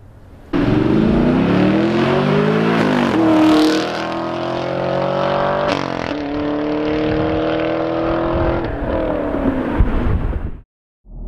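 A 2017 Chevrolet Camaro SS 1LE engine revs up and accelerates loudly, pitch rising and falling through gear changes, then cuts off abruptly near the end.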